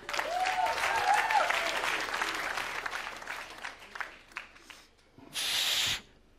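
Audience applause fills the opening seconds, dense and fairly loud clapping that thins into scattered claps toward the end, followed by a short burst of hiss-like noise.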